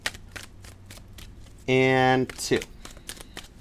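A deck of tarot cards shuffled in one quick riffle lasting about half a second, crisp and close, with a person talking before and after.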